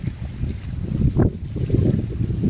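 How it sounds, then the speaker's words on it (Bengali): Strong storm wind at a forest creek mouth roars and buffets the microphone in a steady low rumble, with gusts rising and falling throughout. "প্রচুর হাওয়া হচ্ছে, আর হাওয়ার জন্যেই কিন্তু তুফান হচ্ছে"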